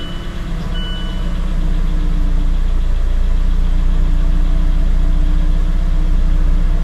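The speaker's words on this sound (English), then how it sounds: "I'm going to start up the engine and let it run for a little while." A 2016 Mazda CX-5 engine catches and settles into a steady idle, a low continuous rumble that holds even and close throughout after a slightly rougher opening moment.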